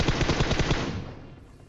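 Rapid automatic gunfire in the mobile battle royale game PUBG Mobile, a tight burst of about a dozen loud close shots that stops and trails off into a fading echo.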